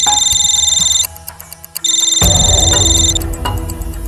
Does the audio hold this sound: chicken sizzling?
no